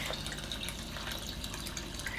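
Water is poured into a pot of prawns for Malaysian Nyonya laksa lemak, a steady, close, noisy rush of liquid lasting throughout.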